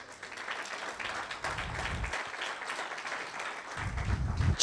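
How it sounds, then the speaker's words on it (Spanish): A church congregation applauds during a Spanish-language sermon, a moderate, fairly distant wash of clapping that holds steady, with low rumbles and a few louder bursts. "Dale un aplauso al Señor."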